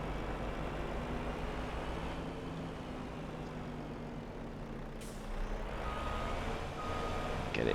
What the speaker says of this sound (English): this truck isn't ours, so I'm just going to park it up